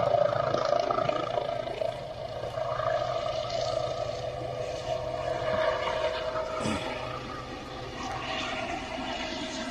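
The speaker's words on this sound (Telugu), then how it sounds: "కేసీఆర్ హెలికాప్టర్ ల్యాండ్ అయ్యే ముందు డ్రోన్ కదలికలు సంచలనం రేపాయి." Helicopter carrying politician KCR landing at Jagitial, producing a steady, loud roaring whine with sustained engine tones and a rushing rotor wash throughout, with no talk.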